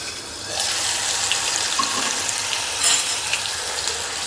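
Finely chopped tomato hits hot oil tempered with a pinch of asafoetida, giving a steady, close hiss and sizzle that swells briefly as it settles in the pan, with no voices.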